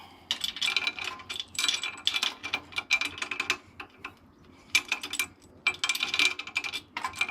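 A torque wrench ratchets and clicks while tightening flywheel bolts on a Volkswagen Beetle Type 1 engine, close-up bursts of rapid metallic ticking separated by brief pauses.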